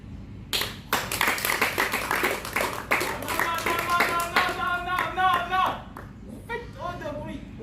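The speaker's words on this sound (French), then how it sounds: "Vous faites trop de bruit. Faut applaudir comme ça." An audience at a rhythm workshop claps together in sharp, loud bursts of many hands, the clapping thinning out as a voice starts talking over it.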